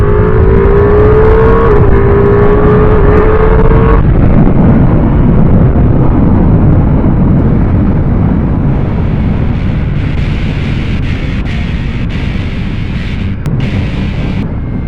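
Ducati Multistrada V4S 2022 V4 motorcycle accelerating on a test ride, a loud close engine note climbing in pitch through a gear change, then a steady roar buried in heavy wind rush against the microphone.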